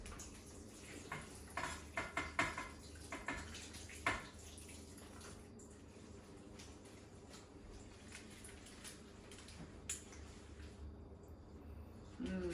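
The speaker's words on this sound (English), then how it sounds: "I'm gonna give these a little rinse." Freshly harvested organic strawberries rinsed under a running tap in a kitchen: a steady wash of flowing water with a few clinks and taps of fruit and dish early on. A faint voice is present in places.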